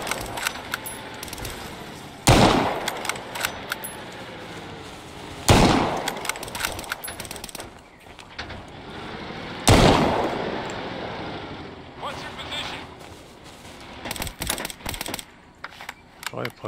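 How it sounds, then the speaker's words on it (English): Gunfire in ARMA 3 S.O.G. Prairie Fire, a Vietnam War military game, lands as three heavy close shots spaced several seconds apart, between stretches of rattling distant bursts, with voices talking throughout. "Covering fire. He's still going. Cover me. Covering fire."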